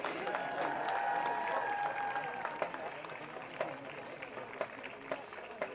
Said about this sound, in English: Give another round of applause for our Albert Gallatin Colonial Marching Band